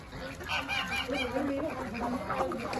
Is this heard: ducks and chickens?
yes